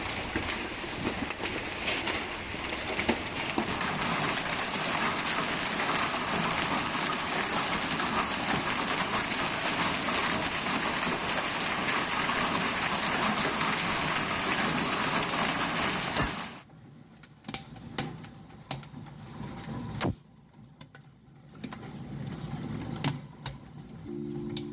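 Heavy rain from a violent summer thunderstorm in the Veneto region of Italy: a loud, dense, steady roar for most of the stretch, then it abruptly thins to scattered drips and sharp patters.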